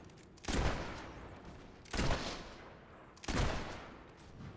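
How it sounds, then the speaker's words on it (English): Three evenly spaced gunshots ring out in Fable 3 as a player fires at barrels, each a sharp, loud blast that trails off into a short decaying echo. "I'm trying to shoot those barrels"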